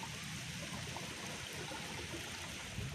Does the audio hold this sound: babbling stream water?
yes